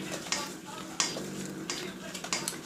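Softened butter is mixed in a bowl for cookie dough, giving soft scraping and slapping strokes with a few sharper knocks, close and fairly quiet.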